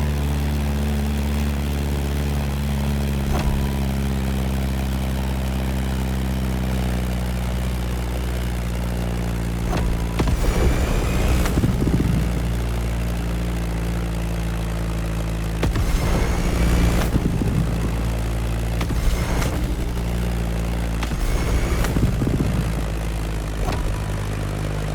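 Beechcraft Staggerwing biplane's radial propeller engine in the racing game The Crew Motorsport, a steady droning hum throughout with a few louder surging passages, no talking.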